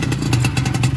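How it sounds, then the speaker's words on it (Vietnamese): A red Yamaha Yaz 125 motorcycle engine fires up nearby, a loud rapid two-stroke putter with clattering pulses, heard alone without talk. "Giờ mình sẽ nổ máy từng chiếc cho anh em xem nha."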